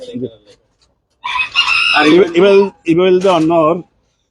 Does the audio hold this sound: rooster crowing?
yes